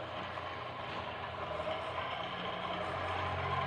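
Non-electric flywheel bicycle being pedalled to spin its flywheel up to high RPM, giving a continuous close mechanical whir and hum that builds slightly in loudness.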